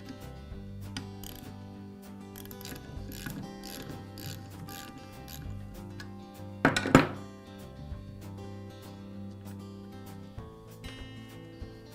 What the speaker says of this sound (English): engage the spindle lock, just as if you're removing the blade, and remove the nut on the end of the armature shaft